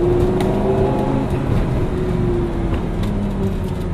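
A Lamborghini Gallardo engine drones steadily at low revs while pulling away with light throttle, a continuous loud interior rumble with a faint rising tone and no voices.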